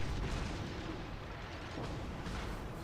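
Cruiser main guns fire in World of Warships, a dense rumble of booming shots that roll into one another with no break, loud and heavy over a steady low-end roar.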